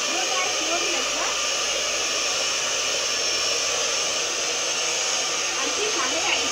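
A hand-held hair dryer blowing hair dry in a small improvised home salon, a continuous loud, even whoosh of air with a steady motor hum throughout.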